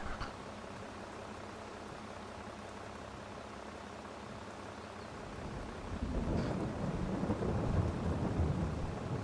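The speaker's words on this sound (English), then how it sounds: "This rain seems to be fairly relentless." Steady rain and rolling thunder in the farming video game Farming Simulator 22: a constant hiss of rainfall, then a deep, heavy rumble of thunder swells in partway through and continues loudly to the end.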